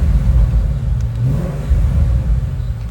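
A 2012 Ford Mustang GT Convertible's engine rumbles loudly with a deep exhaust, rising in a short rev and settling back to a heavy, close growl.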